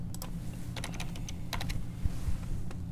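Keys clacking on a computer keyboard while a password is entered for a new user on a MikroTik router, quiet scattered taps in short bursts over a low background hum, no voices.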